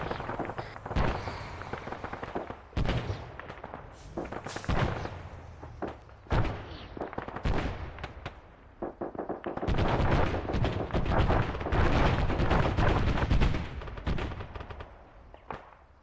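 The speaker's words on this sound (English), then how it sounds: "We're hearing some gunshots coming from the south hill." Gunfire crackles across a hillside battlefield in ARMA 3, with bursts of rifle and automatic fire coming in uneven volleys, some sharp and close, others dull and distant, building to a dense rattling stretch before tapering off.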